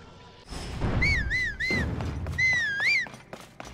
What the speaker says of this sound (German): Link pfeift sich erstmal ein kleines Ständchen